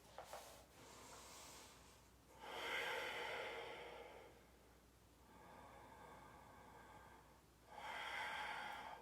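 Slow, deep breaths during a yoga spinal twist in a vinyasa class: a long airy inhale-exhale, then a soft pause, then another breath building again, all quiet and close.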